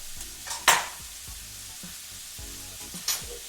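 Smoked andouille sausage cooks in a pan beside fried cabbage, a quiet sizzle punctuated by two sharp flares and soft clinks and knocks of utensils.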